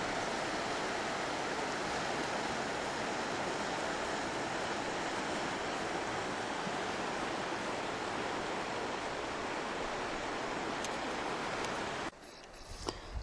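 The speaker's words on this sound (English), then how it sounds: "Very peaceful. We hear the water just passing by." The Colorado River flows by near an adventure resort, a steady, broadband rushing of water that stays even and continuous, then ends abruptly with a few soft handling sounds.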